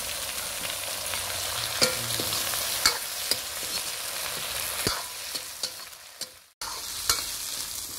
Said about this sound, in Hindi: सब्जी को पहले हम बढ़िया से भून लेंगे